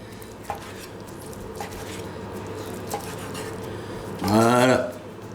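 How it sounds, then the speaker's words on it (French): A knife cuts tender cooked octopus into pieces, making a few soft, sparse taps against a board, followed by a louder scraping clatter near the end, with a person speaking throughout. "je vais prendre mon poulpe, je vais le couper en morceaux"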